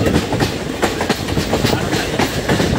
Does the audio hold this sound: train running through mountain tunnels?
yes